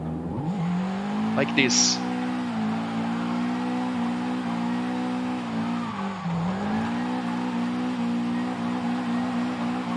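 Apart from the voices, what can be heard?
car engine revving at max revs, Forza Horizon video game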